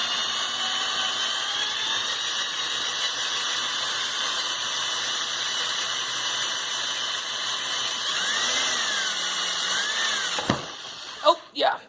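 Power drill drilling out a rivet on a 1990 Volvo 740 sedan door panel, a steady close whine at medium speed that runs continuously, dips and shifts briefly near the end as the bit breaks through, followed by a few sharp knocks.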